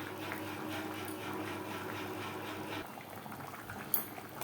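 Chicken pieces simmering in a pot for biryani, spices in the liquid, give off a steady, close bubbling and hiss of boiling liquid that runs throughout, with a brief clink near the end.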